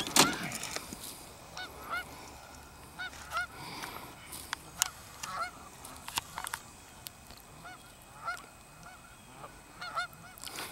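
Geese honk repeatedly outdoors, loud close calls coming in irregular bursts over a faint background hum, with no talking over them.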